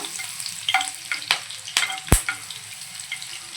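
Crushed garlic and curry leaves sizzle in hot oil in a pan, a steady crackling fry broken by a few sharp spatula clicks and scrapes, close and moderately loud with no voices.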